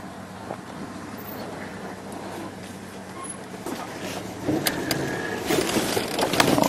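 A safari vehicle in the African bush rolls forward with a low, steady rumble that grows louder and rougher toward the end, as if the engine starts or the car picks up movement, close by with no talk.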